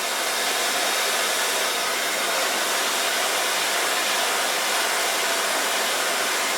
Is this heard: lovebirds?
no